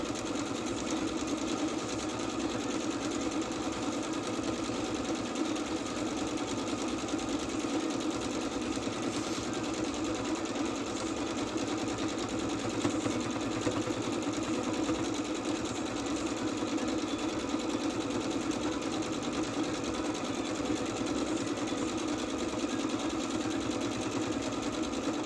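A sewing machine runs continuously and steadily for the whole stretch, a dense mechanical whir with a constant rhythmic hum at close range.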